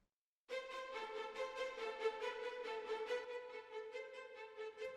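A violin section enters after a brief silence, playing rapid short repeated bowed notes over a steady pitch, full and continuous.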